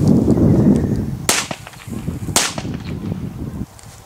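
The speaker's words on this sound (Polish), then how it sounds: "Wow, tylko dwa strzały, ale były naprawdę głośne, co pewnie sami mogliście usłyszeć." Two sharp, loud firecracker bangs from a Corsair K0203 triple-shot, about a second apart, ring out close by against outdoor background noise. The third shot does not follow.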